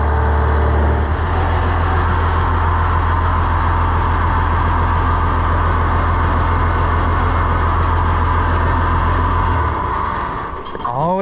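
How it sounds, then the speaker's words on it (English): A turbo diesel engine on a hoe idles loud and steady for about nine seconds, a continuous low rumble and drone, then cuts off near the end. "Always let it idle for a little bit to cool the turbo."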